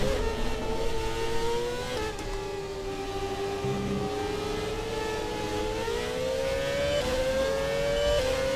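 A Formula 1 race car engine in the game F1 2017, running at the Brazilian Grand Prix, drones loudly and steadily, climbing in pitch and dropping with a few quick upshifts.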